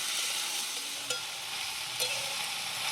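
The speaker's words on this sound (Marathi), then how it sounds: "आता मटकी वाटाणा मासा कांद्यात आणि लसणात चांगली परतून घेतली" Sprouted moth beans and peas frying with onion and garlic in a pan, a soft continuous sizzle with a couple of brief scraping stirs, close and steady with no voices.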